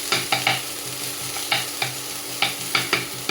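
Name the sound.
onions frying in oil, Telugu chilli egg recipe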